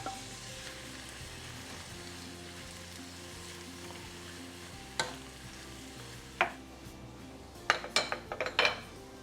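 Steamed broccoli goes into a hot pan of sizzling teriyaki chicken wings, a steady frying hiss giving way to several clinks and scrapes of utensil against the pan, close and fairly quiet, with no talking.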